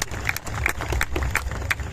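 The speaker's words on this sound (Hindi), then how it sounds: "एक बार तालियां बजाइए" Audience applause at a poetry recital and cultural event, a crowd clapping with a rhythmic, somewhat synchronized beat and a broad noisy wash, moderately loud and steady throughout.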